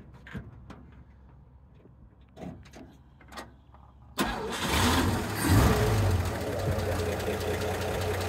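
A 1955 Chevy Cameo pickup's 235 Blue Flame straight-six cranks and fires up midway, jumping from quiet background voices to a loud, steady idle with a brief rise in revs, close to the microphone.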